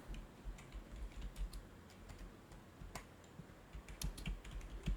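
Quiet, close keystrokes on a computer keyboard tap out a short command in irregular bursts of soft clicks, with no talk.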